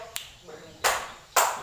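A teacher claps hands in a classroom during a group game, two sharp claps spaced about half a second apart, near and loud against a quiet room.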